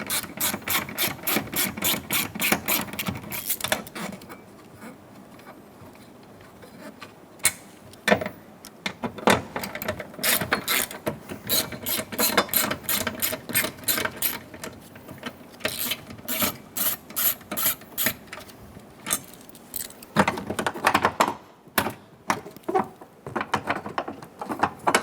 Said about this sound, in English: Remove the two 7mm bolts for the bracket.